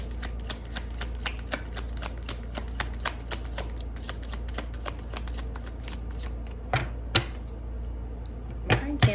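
Tarot cards being shuffled up close: a rapid flurry of papery riffles and light taps over a low steady hum, ending in a few sharper clacks.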